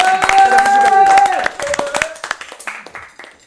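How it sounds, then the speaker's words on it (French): Scattered hand claps break out at a live MMA league event, with a voice heard over the opening stretch before isolated, sharp claps continue and taper off. "Ne laissez pas tout seul applaudir."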